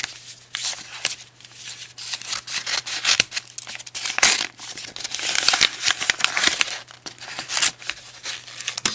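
Trading card packages wrapped in tape are handled nearby, giving continuous crinkling, rubbing and tearing rustles in an uneven rhythm, with no voices.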